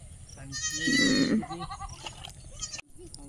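A goat bleats loudly once, a drawn-out quavering cry up close, with people talking before and after it.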